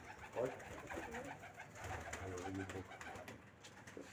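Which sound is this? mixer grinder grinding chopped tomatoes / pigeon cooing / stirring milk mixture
pigeon cooing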